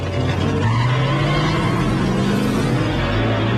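A racing car skids with a continuous loud tire squeal over a roaring engine, close and unbroken for a few seconds.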